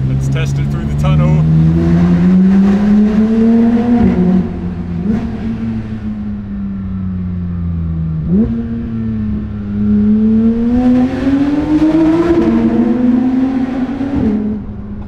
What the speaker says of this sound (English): the tone that the titanium exhaust is putting out, it's just turned up a notch